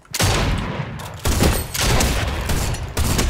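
Gunfire rattles out in rapid bursts in the video game Fortnite, the shots dense and close with short pauses between volleys.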